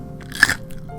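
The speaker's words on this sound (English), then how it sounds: "Hear that crunch?" A single close, sharp crunch of biting into a juicy baby kosher dill pickle, with a brief wet chewing crackle after it and no talking.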